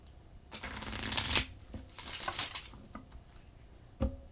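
Tarot cards riffle and shuffle in two quick bursts of crisp, papery fluttering, followed by a couple of soft taps, close by.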